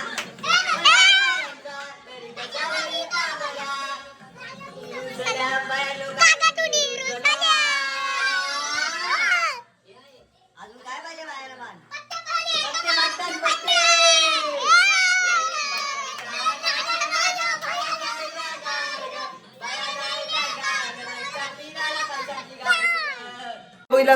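Small children shriek, chatter and shout together while playing during a Ganpati festival arrival, a near, continuous noisy jumble with one brief lull partway through.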